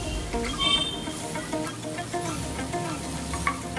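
Chopped coriander leaves fry in an oiled pan with a steady, close sizzle and occasional stirring scrapes throughout, no talk.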